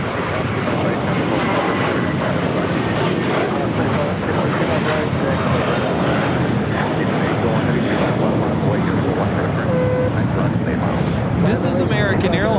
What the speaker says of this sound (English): This is American Airlines 382 taking off to Boston on the A321